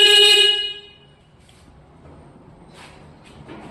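A Yamaha RX100 motorcycle gives one short, loud horn blast, then quiet idle background.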